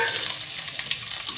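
Bitter gourd added to a pan of roasted garlic, frying with a soft, even hiss and a few faint stirring ticks, close and unaccompanied by talk.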